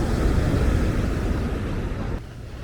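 Strong sea waves on a Barcelona beach in bad weather roar in a loud, continuous wash of surf with wind buffeting the microphone. The roar drops off near the end, and there is no speech.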